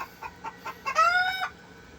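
Hens cluck softly in a short series of close calls, ending in a longer rising squawk, with their chicks nearby in a backyard flock.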